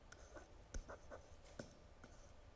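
Faint, close scratching strokes of handwriting on a surface during a biology lesson on atomic structure, a few short marks in quick succession over a soft steady hiss.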